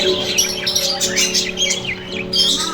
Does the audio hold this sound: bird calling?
yes